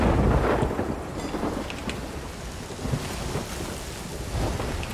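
Thunderstorm and rain at sea during a galleon battle in a video game, a loud, steady rush of rain with low rumbling thunder swelling at the start and rolling throughout, with no voices.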